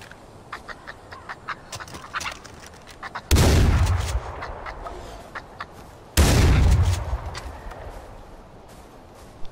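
Two loud gunshots in the video game Far Cry 4, fired at a skunk-like animal several seconds apart, each with a booming tail, over faint clicks and soft background sounds.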